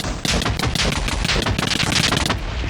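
Beds exploding in the Minecraft Nether make a rapid barrage of loud, overlapping blasts and crackles that rattle on without pause for a few seconds.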